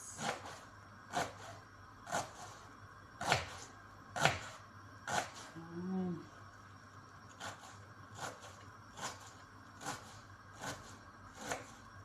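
An onion being sliced with a knife on a cutting board during home meal preparation, about a dozen crisp, evenly spaced chops close to the mic, fairly quiet, with no talking.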